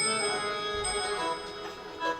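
A temple bell rings with a bright, lingering metallic tone that sustains and decays in a quiet space, with no talking.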